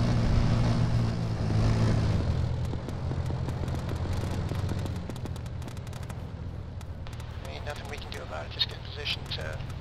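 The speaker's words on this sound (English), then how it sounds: "Helicopter north." A Hip helicopter passes overhead in a military video game, a low, throbbing rotor drone with rapid chopping pulses that gradually fades, while distant gunfire pops and players talk over radio.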